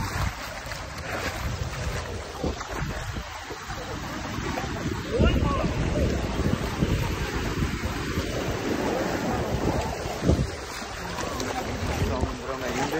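Sea surf washes over a beach while someone wades into the water, a continuous broadband rush with gusting wind and occasional louder wave swells, and people's voices mixed in.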